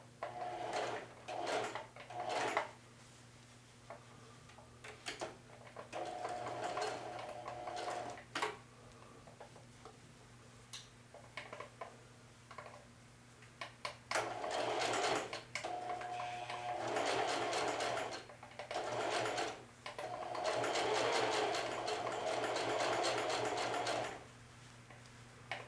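A sewing machine stitches with orange thread, including a back stitch, running in bursts of fast whirring and ticking separated by pauses, near and fairly loud with no speech.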